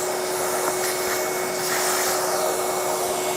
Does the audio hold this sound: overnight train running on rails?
no